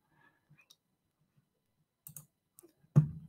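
Computer mouse clicks while navigating website menus on the eBay dashboard, a few sparse, close, crisp clicks separated by near silence, the last one sharper and louder.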